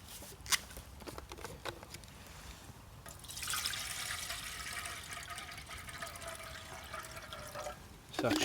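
Water pours steadily into a French M35 aluminium mess kit for about five seconds, a bright continuous splashing trickle, after a few light clicks and handling knocks, with a voice briefly speaking nearby.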